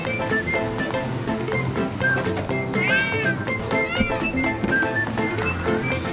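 Cats meowing at a cat shelter, with a couple of drawn-out meows standing out against a dense, steady wash of background sound.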